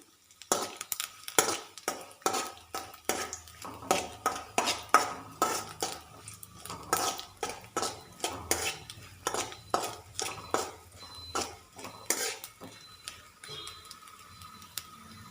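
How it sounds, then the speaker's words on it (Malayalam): Coconut pieces frying in ghee in a metal pan for a payasam, stirred with a spoon that scrapes and clinks against the pan in a steady repeated rhythm, close and fairly quiet, with a faint sizzle underneath. "ഇതൊരു ഗോൾഡൻ ബ്രൗൺ കളറാകുന്നത് വരെ നമുക്കൊന്ന് നെയ്യിലൊന്ന് മൂപ്പിച്ചെടുക്കണം."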